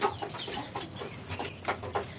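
Chickens suffering from snot with swollen, watery eyes cluck in a close series of short, soft calls over a steady low background, with no talk.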